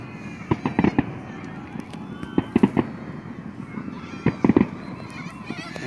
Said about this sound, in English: It's actually two sets of fireworks